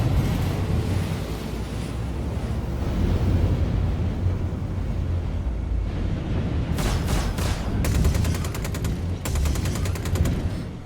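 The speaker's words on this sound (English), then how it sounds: "Thrusters." Thrusters of a P-52 Merlin light fighter in the space game Star Citizen roar as a steady, loud broadband rush, with bursts of rapid crackling pulses layered on top near the end.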